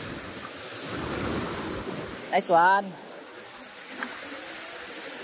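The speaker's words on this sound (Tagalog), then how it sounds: "Malalaki ang alon." Big waves roll and wash around a fishing boat at sea, with gusting wind buffeting the microphone; someone says a couple of words partway through.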